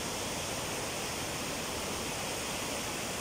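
The Mai river at Domukha in Jhapa, Nepal, gives a steady, dense rush of flowing water that holds level without a break throughout, with no voices.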